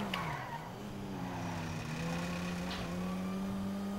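A Porsche in GTA V skids with a sustained tire squeal over a steady engine drone, close and continuous for several seconds.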